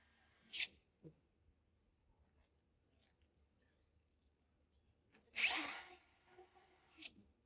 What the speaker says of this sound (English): Make sure you use a low torque setting on your drill.